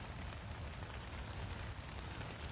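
Heavy rain drums steadily on a silnylon tent in deep woods, a dense, even patter heard from inside, faint and continuous with no voices.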